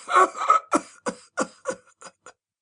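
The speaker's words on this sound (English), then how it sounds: "His guffaw broke in a rasping cough, which seemed to tear his broad chest to ribbons." A man's rasping cough in a dramatic audiobook, starting with a harsh, voiced burst and then breaking into a series of five or six shorter hacking coughs that fade out, close and alone.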